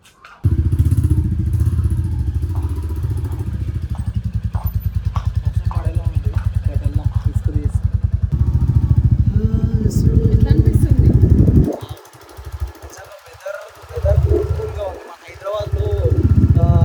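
A motorbike ridden on a cloudy evening after rain, its engine droning steadily and close for most of the stretch, then dropping into choppy, uneven bursts near the end, with people talking over it throughout.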